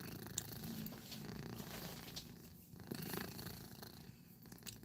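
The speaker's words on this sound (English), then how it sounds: "Oh, you can hear my kitty purring?" A pet cat purring right beside the microphone indoors, a soft, steady rumbling purr that pulses with each breath and stays close and gentle, with no voices over it.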